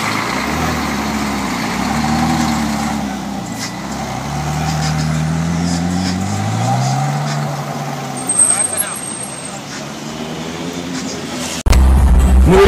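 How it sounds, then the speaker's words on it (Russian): A Ferrari California convertible drives through Paris, its engine a steady low drone rising and falling with gear changes over road noise, with a brief sharp hiss near the end. "да еще и на кабриолете, да еще и на Феррари, да еще и на Калифорнии покататься"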